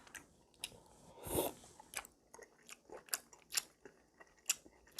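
Close, quiet chewing of chewy rice cakes in spicy Buldak tteokbokki, with soft irregular squishes and small clicks spread through a few seconds and one louder burst near the start, no talking.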